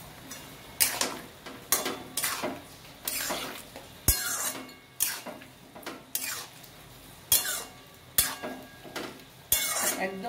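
Soybean chunks are stirred into a simmering potato curry, a spoon scraping and clinking against the pot in repeated close strokes roughly every second, with a faint bubbling underneath.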